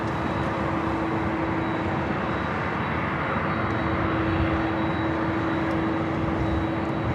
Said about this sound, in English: That is the Delta 767-300ER heading to Honolulu,